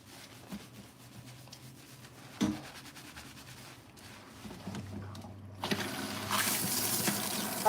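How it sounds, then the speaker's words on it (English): Water rinses shampoo out of a client's hair at a salon wash basin, a soft steady splash and rush that grows louder and brighter toward the end, close by with no talking. "I'm rinsing out her normalizing shampoo"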